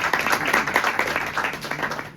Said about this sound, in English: Round of applause for Tevin, everyone.